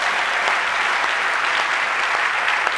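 A church congregation breaks into steady, dense applause, loud and close throughout with no pauses.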